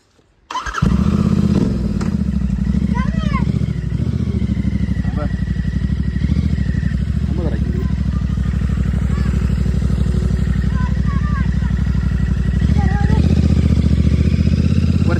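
A Royal Enfield GT650 with its silencer removed starts up and runs with a loud, raw, throbbing exhaust, close and continuous with some throttle rises, while voices talk faintly beneath the engine.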